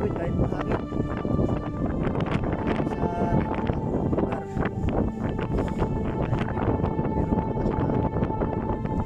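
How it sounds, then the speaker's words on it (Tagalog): Strong gusting wind buffets the microphone at a fishing park by the water, a loud, continuous rumbling roar with rapid flutters, while people talk underneath. "Mahangin masyado guys."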